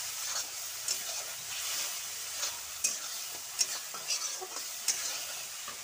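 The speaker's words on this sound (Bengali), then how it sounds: "মশলাটার সাথে ভেজে নিচ্ছি" Vegetables frying in a pan with poppy seed masala, a steady soft sizzle broken by a few sharp scrapes and taps of stirring, close and fairly quiet with no talking.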